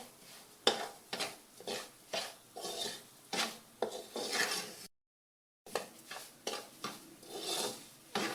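Semolina being roasted with cardamom in a pan, a close rhythmic scraping and rasping as a spoon stirs it, repeated strokes about once a second with a short gap of silence.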